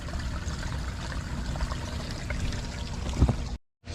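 Irrigation water pours and trickles steadily into the rows of a farm field, a continuous near wash of flowing water that cuts off briefly near the end.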